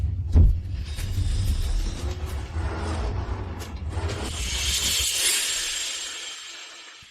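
A car drives and speeds up in a dramatized scene, with a loud low engine rumble at the start and a rising whooshing rush of air and motion that builds and then fades toward the end.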